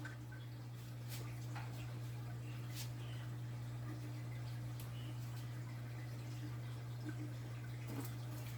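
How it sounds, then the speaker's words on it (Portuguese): Water from an aquarium runs steadily into a bucket through a silicone hose, a continuous low trickling wash with faint drips, heard alone over a steady low hum. "Vou colocar mais um pouco de água no balde, né?"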